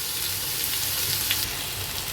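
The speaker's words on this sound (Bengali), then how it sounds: "4 মিনিটের মতো আলুটা ভেজে নিয়েছি" Potatoes frying in an oil-filled pan, a steady close sizzle that runs evenly throughout with no voices over it.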